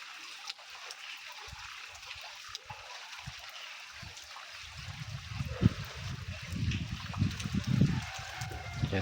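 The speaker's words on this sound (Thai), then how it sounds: "น้ำไหลบ่ทันพี่น้อง" Floodwater after heavy rain rushes around a house in a steady close wash that grows louder and more turbulent in the second half.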